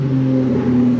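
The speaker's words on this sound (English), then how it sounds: "I can hear my friend Matt coming up the hill in his E30" A BMW E30 climbs a hill, its engine a loud, steady droning hum with strong low tones, heard close by without speech.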